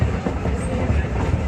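Riding aboard a Strasburg Railroad passenger train, a loud, steady rumble of rolling wheels fills the car, with a rhythmic clickety-clack of rail joints running underneath for the whole stretch; no one speaks.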